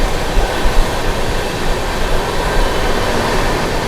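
The 12621 Tamil Nadu Superfast Express runs at high speed through Hinganghat, heard from inside a 2AC coach as a loud, steady roar with rumbling wheel noise.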